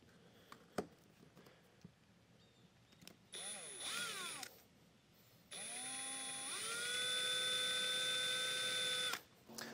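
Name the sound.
power drill drilling holes in flange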